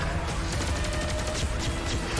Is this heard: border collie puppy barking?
no